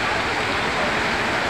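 Heavy rain pours down steadily at an outdoor vegetable market stall in Shivaji Colony, a dense, continuous broadband hiss with no breaks, loud and close throughout.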